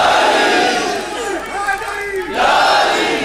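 A large crowd at a religious gathering roars back a loud chanted response to the Nara-e-Haidri slogan, voices rising together, dipping briefly, then surging again.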